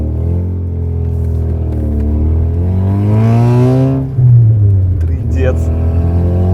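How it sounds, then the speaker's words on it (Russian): An Alfa Romeo 156 with no muffler runs and revs its engine, a loud, raw rising and falling drone close by, with someone talking over it. "у тачки нет глушака"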